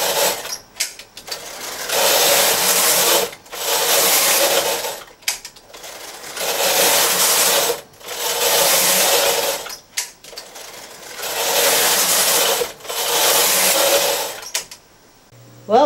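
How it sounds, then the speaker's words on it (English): A knitting machine carriage with a ribber, working double jacquard stripes, sweeps back and forth across the bed. Each loud, rushing pass lasts about two seconds, and a brief clack and pause split one pass from the next. "as the carriage is going from right to left, it's not knitting on the ribber"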